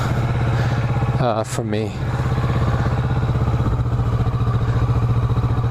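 Motorcycle riding through a neighborhood, its engine a loud steady pulsing thrum close by, briefly rising in revs, with a rider speaking a few words over it.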